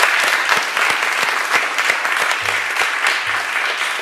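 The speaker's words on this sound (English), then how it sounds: "round of applause for Eric Gilbert of Yahoo Small Business" Audience applause for a Yahoo Small Business guest speaker at an event: steady, dense clapping from a room full of people, loud and close, continuing throughout without a break.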